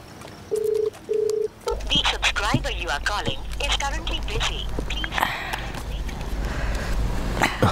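Two short electronic keypad tones sound as a telephone is dialed. Voices and background sound from a dubbed Hindi film scene follow.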